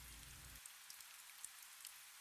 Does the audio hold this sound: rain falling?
yes